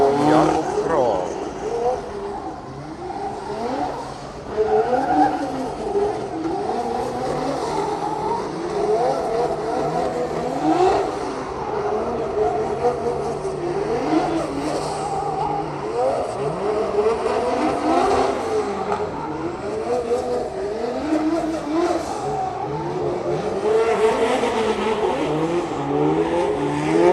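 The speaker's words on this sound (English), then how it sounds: "So, it's time for the tire warm-up for these guys, Marko Zakoril and Jakub Kroll." Drift cars warming tires during practice at a Drift Masters event in Finland, with engines revving up and down repeatedly, rising and falling tone sweeps and tire squeal, loud and continuous, with a commentator talking over it.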